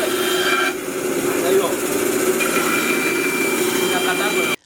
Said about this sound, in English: you will have to reduce the gauge of the bandsaw for you to attain the desired length of the timber